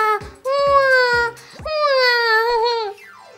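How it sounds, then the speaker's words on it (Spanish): A newborn baby wails in several long, high, sobbing cries broken by brief gasping pauses, loud and close. "parece un llanto de un bebé"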